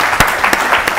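Studio audience clapping at a televised school quiz show, loud and close, with dense sustained applause and a few sharper peaks over about one second.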